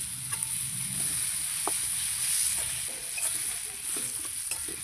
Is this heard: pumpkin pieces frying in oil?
yes